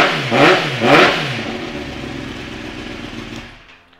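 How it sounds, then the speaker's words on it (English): A 2018 Kawasaki ZX10R KRT sportbike revs through its exhaust, with two sharp throttle blips close and loud before the engine note falls away and fades out. "let's hear that cheeky little exhaust"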